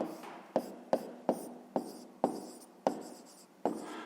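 A pen writes by hand on paper during a fifth-grade maths exercise, about eight short sharp taps and strokes in a steady rhythm, close and quiet with no talk.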